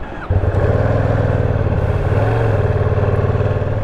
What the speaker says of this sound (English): the sound of the exhaust just comes alive just a little bit more